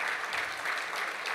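Sustained applause from a benefit dinner audience, a dense steady wash of clapping that fills the whole moment without a break and without anyone speaking over it.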